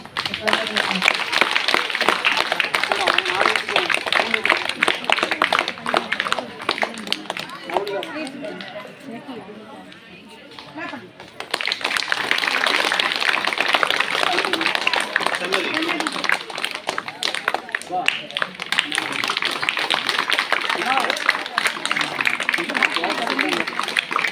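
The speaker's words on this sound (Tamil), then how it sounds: "நல்ல ஒரு பழத்தை கைத்தட்டல் கொடுத்துடலாம்" An audience at a school annual day celebration claps in long, dense bursts; a first round fades out at about ten seconds, then a second round starts and runs steadily to the end.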